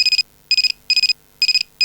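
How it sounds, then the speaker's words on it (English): A phone in a visual novel video game rings with bright, rapid trilling bursts in a regular pattern, loud and close, with no one talking. "Someone's phone's going."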